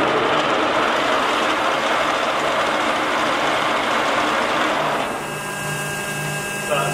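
A 27 by 80 inch Timemaster gap bed engine lathe runs at about 678 RPM, giving a steady loud mechanical drone with a constant hum. Near the end it shifts to a quieter, more tonal whine.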